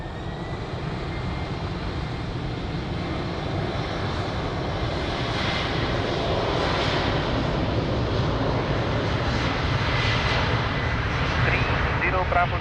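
An airliner roars steadily down runway 02 at Lisbon Airport on its takeoff run, a broad, sustained engine rumble that swells gradually louder over several seconds.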